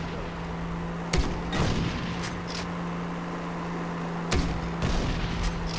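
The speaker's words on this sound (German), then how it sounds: "Ich soll ruhig bleiben, wenn die auf mich schießen?" Gunfire in Far Cry 3 cracks out in a few sharp bursts over a steady background drone, with shots spaced a second or more apart.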